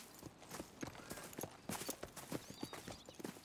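Horse hooves clip-clopping on the ground in Red Dead Redemption 2, a steady rhythmic series of distinct hoof strikes at moderate distance with no talk over them.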